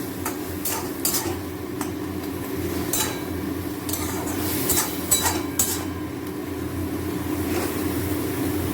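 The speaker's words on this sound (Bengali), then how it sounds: "পোস্ত বাটাটা দিয়ে নাড়াচাড়া করতে হবে।" Drumstick flowers cooked with poppy seed paste in a pan, stirred with a utensil that clinks and scrapes against the metal in irregular taps over a low continuous sizzle.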